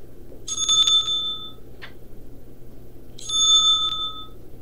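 A service bell at a shop counter rings twice in quick, bright dings, with a short tap between, over a low steady background hum.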